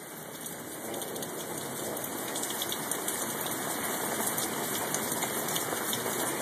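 Heavy rain pours steadily during a July thunderstorm, a loud, even roar of drops hitting surfaces that holds constant throughout without any talking.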